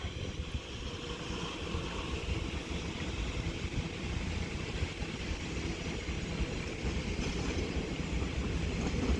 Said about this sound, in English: terminating in over here is the Elizabeth Line Class 345 for TFL